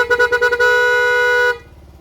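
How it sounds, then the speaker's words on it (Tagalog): A Bristol Maxie 400cc motorcycle horn sounds close and loud, a few short toots followed by one steady blast of about a second, with no talk over it. "Hindi, busina tayo."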